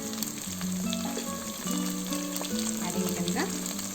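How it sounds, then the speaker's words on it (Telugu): Onions fry in a pan with coriander and mint, giving a continuous close crackling sizzle with a few faint stirring sounds underneath. "ఇప్పుడు మనకి ఉల్లిపాయలు వేగిపోయాయి. ఇందులో మనము కొద్దిగా కొత్తిమీర, పుదీనా వేసుకున్నాము."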